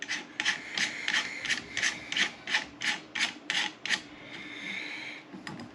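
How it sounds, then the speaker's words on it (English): Castle nut being tightened on a Sharp Bros. Heatseeker chassis for a Ruger American Ranch 7.62x39 rifle, heard as about a dozen rhythmic close rasping, ratcheting strokes followed by a softer scraping tail. "We're going to tighten this castle nut down."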